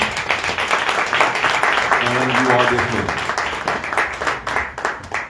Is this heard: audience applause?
yes